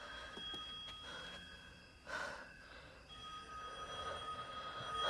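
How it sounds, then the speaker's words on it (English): A telephone rings inside a house in the film Monster House, a faint, repeated electronic ring under tense breathing and a sharp gasp. "he's hearing ringing coming from inside the"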